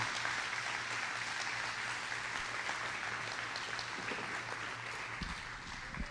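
A church congregation claps steadily at a moderate distance, the applause tapering slightly near the end over a low steady hum.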